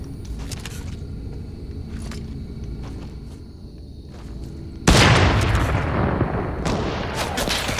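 Gunfire aimed at an opponent in a shooter video game, heard as quick distant shots through the first half, then a sudden loud, dense burst of booming fire that continues to the end.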